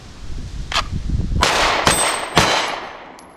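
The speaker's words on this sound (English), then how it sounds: "let's do some shooting" Pistol shooting drill with a handgun fired in quick succession, giving about four sharp, loud, close reports with ringing metallic decay and no talk.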